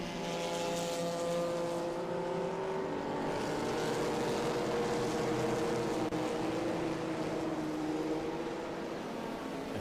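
Vintage race cars, including a Porsche 914 and a Corvette, race at the Indianapolis Brickyard, their engines a loud, steady roar that holds without a break, with no speech over it.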